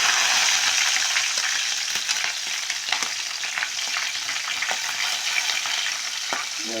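Garlic, onion and chilli with mustard seeds fry in hot oil in a pan for a tomato curry, a steady bright sizzle with scattered crackles and pops as they are stirred.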